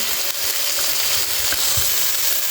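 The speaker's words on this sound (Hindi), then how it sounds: "प्याज को 1 मिनट फ्राई किया है" Onion fries in a pan for beef chilli, a loud, dense, continuous sizzle with faint scraping stirs underneath, close up and without talk.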